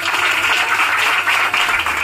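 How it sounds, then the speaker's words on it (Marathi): An audience at a village Paithani game show event claps together in a short, steady burst of applause, fairly close and without talk over it. "त्याबद्दल सगळ्यांनी टाळ्या वाजवा."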